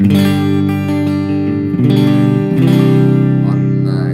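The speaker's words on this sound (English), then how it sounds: "this is the sound of my guitar without the cab." A clean Stratocaster in position 4, out of phase, playing sustained chords without a speaker cabinet, loud and dry with a thin, direct tone and no talking.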